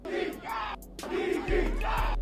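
A concert crowd at an Atlanta rap show chants a rapper's name in loud repeated bursts, with short gaps between the rhythmic group shouts.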